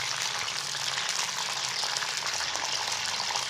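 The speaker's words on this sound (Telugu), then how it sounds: "అంటే ఇది లైట్ బ్రౌన్ షేడ్ వచ్చేలాగా కాకరకాయలను వేయించుకోవాలి మనం." Bitter gourd pieces fry in hot oil, cooked until light brown, giving a steady, dense hiss and sizzle with no pauses and no voices over it.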